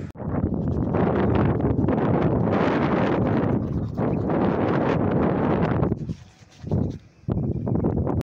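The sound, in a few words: wind blowing outdoors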